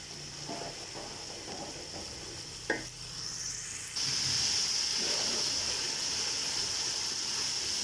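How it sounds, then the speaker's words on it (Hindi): Tomatoes fry in a pan with a steady sizzling hiss and occasional stirring scrapes, the sizzle swelling louder and brighter partway through and then holding steady. "ये माशाल्लाह कितना ज़बरदस्त टमाटर पक रहा है।"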